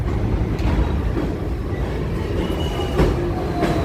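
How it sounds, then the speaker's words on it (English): An above-ground Brooklyn subway train runs close by in a steady, loud rumble of wheels on rails, with faint rhythmic clicks and brief metallic squeals rising over the continuous roar. "Peter, above ground trains are a novelty compared to Manhattan subways."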